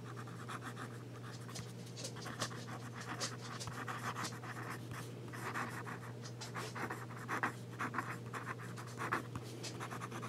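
A Pilot Metropolitan fountain pen with a 1.0 nib writing on paper makes soft, close scratching strokes in short bursts over a steady low background hum, with no talking.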